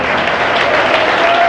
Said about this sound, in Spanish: fuerte ese aplauso para el Rey